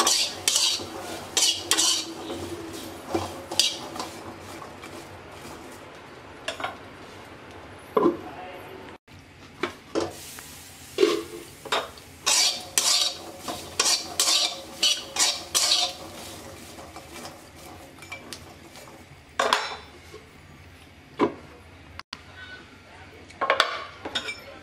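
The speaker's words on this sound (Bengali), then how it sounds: "আবারও ঢাকনা খুলে নেড়ে দিচ্ছি।" Small unpeeled potatoes are stirred in a covered pan, with repeated metallic scrapes and clinks of a spoon against the metal, a lid being lifted and set back, and talking over the clatter.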